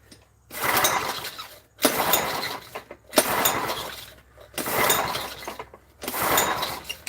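A Honda pressure washer's small engine being started, with the same broadband mechanical burst repeating five times in a steady rhythm, each lasting about a second and separated by short pauses, loud and close.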